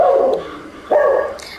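Dogs just back from boarding let out two short barks with some whimpering, close and fairly loud, the second bark sharper than the first, with no talk over them.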